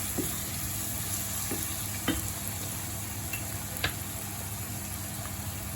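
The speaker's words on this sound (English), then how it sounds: "Give that a good stir and let that cook up" Onions, ginger and garlic paste sizzle steadily in a hot pan for a curry, a continuous frying hiss with a few light taps of the spoon as the mix is stirred.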